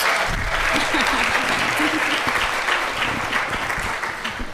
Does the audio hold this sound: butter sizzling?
no